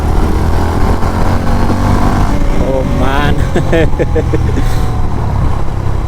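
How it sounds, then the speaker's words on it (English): A Honda CB350 H'ness motorcycle accelerating in first gear, its engine note rising through a revving sweep under steady wind noise, with someone talking over it. "Honda CB H'ness 350. Let's see how the performance is in first gear."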